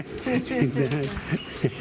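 Pigeons cooing at close range at Kenzi Agdal in Marrakech, a few soft throaty coos rising over French conversation from people nearby.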